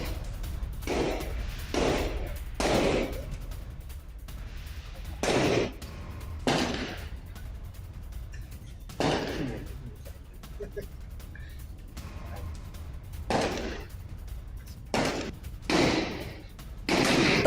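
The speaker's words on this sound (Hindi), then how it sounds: "बलोच लड़ाके, जहां फायरिंग कर इलाके में कब्जे का कैसे जश्न मनाया" Baloch fighters fire guns in celebration in Quetta. Scattered sharp cracks and short bursts of shots sound at middle distance, irregularly spaced over a low background rumble, with voices faintly present.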